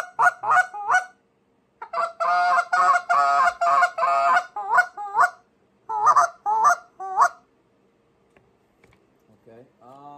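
A goose call blown in a contest routine produces quick honking stall clucks in short rhythmic bursts, then a sustained run of rapid calls, then more spaced clucks before trailing off to faint notes, loud and close.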